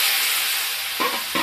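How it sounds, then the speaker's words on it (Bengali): Ground ginger, onion, garlic and green chilli paste hitting hot oil, a loud, dense, continuous hiss of frying with two brief spatula knocks near the end. "আদা পেঁয়াজ রসুন কাঁচা লঙ্কা সব পিস করে মিক্সচার মেশিন করে এই যে মশলাটা আমি ঢেলে দিলাম।"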